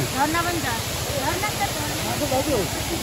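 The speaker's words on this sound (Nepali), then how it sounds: "झरना पनि छ होइन" A steady, dense roar of Mailung Waterfalls in Rasuwa, Nepal, fills the background while people talk over it.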